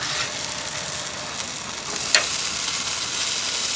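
Fatty beef marinated in sauce sizzles steadily on a charcoal grill, a close, continuous hiss with one brief sharp pop midway and no talk.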